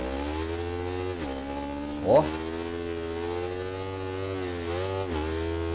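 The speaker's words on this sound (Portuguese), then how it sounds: "olha o barulho dessa moto, mano. O barulho dela é muito real." A 2021 Yamaha MT-07 motorcycle engine holds a steady high-speed drone in the racing game Ride 4, its harmonic tone shifting slightly with small throttle changes, and a brief vocal exclamation cuts in near the middle.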